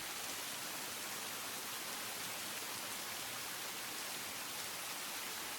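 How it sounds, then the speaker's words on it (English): Steady rain in the visual novel game Tsukihime, a soft, even hiss of falling water with no breaks or voices, continuous and moderately quiet throughout. "I listen to the sound of the rain."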